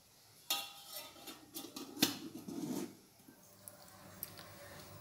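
A metal tiffin-carrier steamer is set onto a kadai holding a little water to steam hilsa fish. Two sharp metallic clanks sound close by, followed by a short scrape, then quiet small taps.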